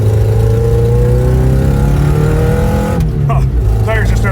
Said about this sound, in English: tires just started breaking free in a second there